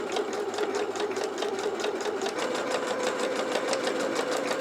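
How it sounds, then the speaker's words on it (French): A sewing machine stitches a zipper close to its teeth, running at a fast, even stitching rhythm that stays loud and continuous from start to finish. "on coud une première fois au plus près des dents et une deuxième fois sur le côté pour bien maintenir"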